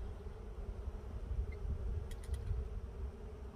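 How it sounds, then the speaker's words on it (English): Honeybees inside an open, working hive give a faint, steady low hum with a few brief higher buzzes as individual bees pass close. "little tour of inside of a working honeybee colony and seeing the inside of the hive"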